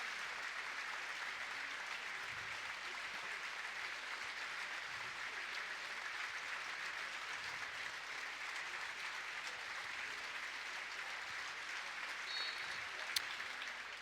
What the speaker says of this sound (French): minute d'applaudissements